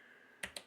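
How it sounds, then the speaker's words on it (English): Two quick, crisp keystrokes on a computer keyboard during a Docker setup, close and faint against a quiet room hum. "I'm bad at typing"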